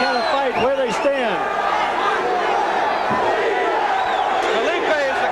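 A boxing crowd in Denver chants and roars for a fighter named Felipe during a 1980 bout, a loud, dense wall of rising and falling shouts with no break.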